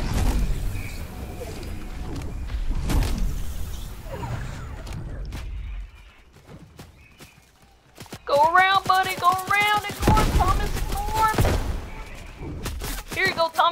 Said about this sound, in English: They're shooting from the island, yeah.